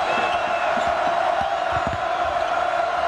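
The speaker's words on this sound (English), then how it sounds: "Crowd is up and making a lot of noise" Fans at a Kansas at Texas Tech basketball game keep up a sustained roar of cheering, with scattered shouts and a few low thuds under the constant crowd noise.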